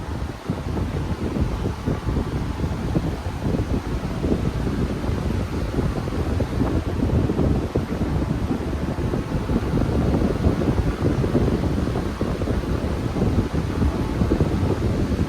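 A 20-inch yellow high-velocity fan running on its high setting gives a steady, close, broadband whooshing roar that holds at an even level from start to finish, with no voices over it.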